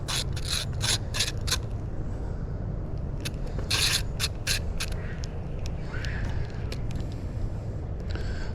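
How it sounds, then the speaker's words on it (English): Worn fishing reel with gears not meshing, cranked in bursts of rapid rasping clicks and grinding, close up over steady outdoor creek background noise, with a short gap in the middle. "Oh, my reel sounds horrible."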